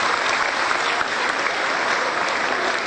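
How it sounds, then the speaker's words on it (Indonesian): Dense, steady applause from an audience of Qur'an school teachers at a large gathering in Solo, filling the whole stretch at even loudness with no speech over it. "Tepuk tangan dulu."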